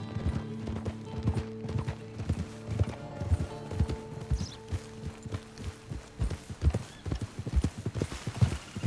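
Horse hooves clip-clop at a steady walking rhythm in Red Dead Redemption 2, close and distinct, with faint creaking tack and a low background hum and no voices.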